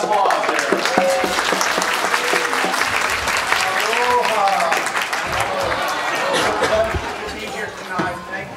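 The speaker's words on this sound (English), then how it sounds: "Give a round of applause there." At an awards dinner, the audience applauds a local ukulele band with a steady, full round of clapping, while crowd chatter and a few raised voices sound through it before it thins near the end.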